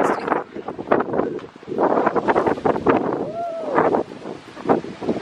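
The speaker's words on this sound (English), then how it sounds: "It is windy." Gusty wind buffets the microphone in low, rumbling bursts while people talk over it nearby.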